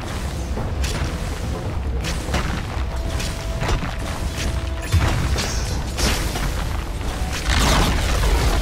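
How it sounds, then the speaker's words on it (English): Dota 2 tower under attack: repeated heavy impacts and booming hits mixed with mechanical creaks and clanks, a dense, loud battle din with fairly regular strikes. "Radiant's top tower is under attack."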